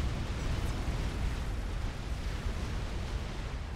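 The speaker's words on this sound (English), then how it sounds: "And I hear explosion." Distant explosions rumble through a real-time strategy battle in the video game Supreme Commander, a continuous low booming wash with no sharp individual blasts standing out.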